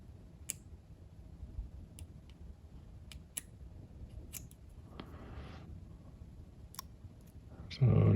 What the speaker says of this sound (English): I'm just going to take a razor knife and try to get between, I only want to peel one layer off.